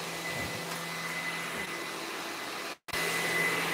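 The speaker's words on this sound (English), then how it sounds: "He's under the dryer." A handheld hair dryer blows steadily at close range while drying dreadlocks, a continuous broadband whoosh that cuts out briefly near the end before resuming at full strength.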